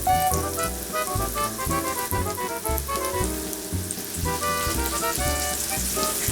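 Fish frying in a frying pan gives a loud, dense, continuous sizzle and crackle, close to the microphone with no talk.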